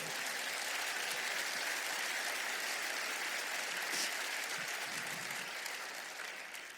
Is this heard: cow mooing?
no